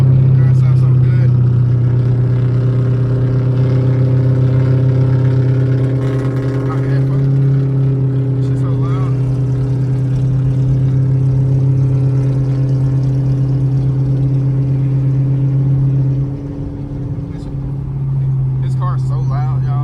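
A powerful catless Chevrolet Camaro SS engine rumbles loudly and steadily at idle with occasional revs, while someone talks over it close by.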